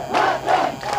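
Mourners at the funeral procession of martyred soldier Ramniwas Yadav in Jalalpur village, Ghazipur, chant 'amar rahe' slogans in three rhythmic, loud bursts of massed voices with short gaps between.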